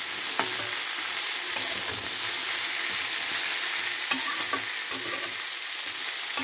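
Steady sizzling of sambar ingredients frying in a kadai, with occasional scraping clicks of stirring, close and continuous without talk.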